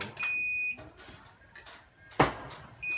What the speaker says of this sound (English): you hear the beeping, and you see the door coming up